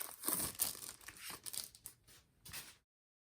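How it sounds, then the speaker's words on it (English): The packaging of an AKB48 CD, type B, is torn and crinkled open by hand in quick close rustling bursts, then stops abruptly. "Let's go ahead and open up type B."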